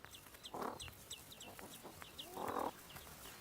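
Eider ducks call at their nesting islands in Breiðafjörður, Iceland: two distinct throaty calls stand out, with faint chatter and small clicks from other birds in between.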